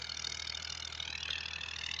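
Massey Ferguson 240 tractor engine driving a rotavator in a field, a faint, steady mechanical drone and whine running evenly throughout.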